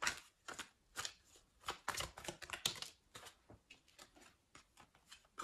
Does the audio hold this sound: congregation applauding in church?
no